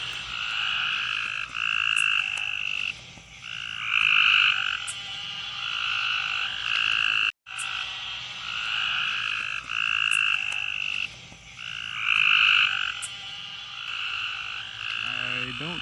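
Tree frogs call in the Tennessee mountains, a repeated series of loud, rapid trilling bursts with brief pauses between them, fairly close and continuous with no talking.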